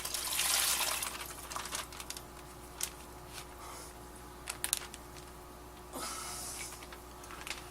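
Water poured and splashed out of a plastic bag holding threadfin rainbowfish, a short gushing burst at the start and another near the end, with soft drips and trickles between, close and quiet.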